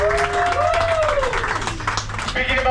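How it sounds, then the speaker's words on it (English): A ghost tour audience aboard a trolley in Key West claps in a moderate burst of applause, mixed with voices and a tonal whistle or vocal sound over a low engine-like hum. "let's give a round of applause to Carl for not doing us."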